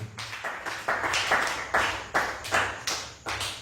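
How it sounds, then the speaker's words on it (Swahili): Congregation in a church clapping together in a loud, steady rhythm, about ten sharp bursts of many hands in quick succession, close and dense with no speech over it. "Pigia Yesu makofi mazuri."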